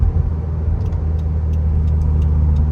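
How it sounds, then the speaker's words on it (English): A 2021 Subaru WRX Sport with a manual gearbox is downshifted into second gear before a turn, heard as a loud, steady low engine rumble with road noise from inside the car, with no talk over it. "So I would just usually downshift it into second and then take my turn normally."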